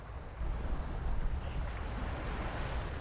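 Sea waves washing along an open shoreline, a steady low roar of surf with wind buffeting the microphone, continuous and fairly loud with no voices.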